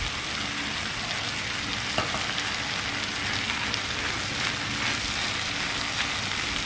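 Green chillies and tomatoes frying in a hot pan, a loud, dense, continuous sizzle like steady rain, with one brief clink near the start and no talking.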